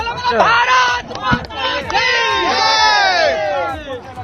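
A crowd of young supporters shouts and chants loudly and continuously at a Modi roadshow in Varanasi, with many overlapping raised voices nearby.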